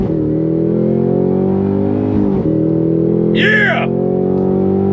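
A 2023 Cadillac CT5-V Blackwing with a manual gearbox pulls hard in first gear, its engine roaring loud and close with rising harmonics, while a person shouts excitedly over it.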